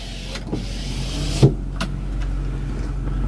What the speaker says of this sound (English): Right here's your power sliding rear window.